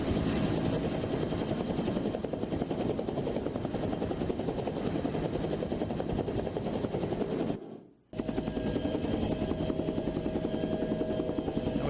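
Steady, loud helicopter rotor thump with a fast chopping pulse running throughout, cutting out briefly for a moment before resuming at the same level.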